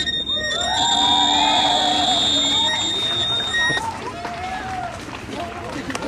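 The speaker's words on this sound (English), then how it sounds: "I've not come quite to the fart sound yet, only the squeaky noises" Squeaky, whistling tones from a handmade DIY electronic noise instrument at a festival workshop, sliding high pitches over a busy room with people chattering nearby.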